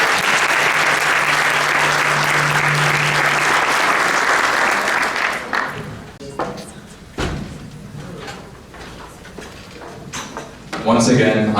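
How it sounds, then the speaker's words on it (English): Loud, dense round of applause from a crowd at a community iftar with elected officials, lasting several seconds before thinning into a few scattered claps, thumps and knocks, with brief voices underneath. "please give another round of applause to Bushra and Mohammed for putting this together."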